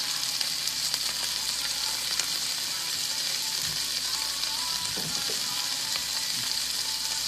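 Broccolini sautéing in olive oil with garlic powder, black pepper and pink salt, a loud close sizzle hissing steadily throughout, with occasional stirring clatters and low knocks, no voices.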